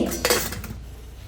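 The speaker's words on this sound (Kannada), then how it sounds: "ರೆಡಿ ಮಾಡಿಟ್ಟ ಎಲ್ಲ ಹಲಸಿನ ಗಟ್ಟಿಗಳನ್ನು ಒಂದೊಂದೇ ಇಟ್ಟು ಮುಚ್ಚಳ ಮುಚ್ಚಿ" Metal clatter and clinks as jackfruit gatti go one by one into an idli steamer pot and the lid closes, a close burst of dish-like knocks early, then fading.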